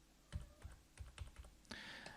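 Arrow keys on a computer keyboard tapped in a quick uneven series of close clicks, about seven presses, followed by a longer clattering burst near the end, with no talking.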